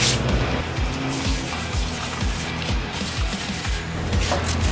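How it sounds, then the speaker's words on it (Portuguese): Porcelain tile is hand sanded with 220 grit wet-dry sandpaper, making a steady, close rasping scrape with rhythmic back-and-forth strokes. "Vou passar uma lixinha de mão, seco e molhado, grão 220."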